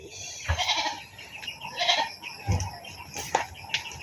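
Goats bleat in short bursts a few times amid farmyard noise, with some clucking fowl in the background.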